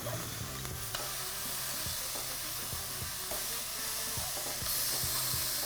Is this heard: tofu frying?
yes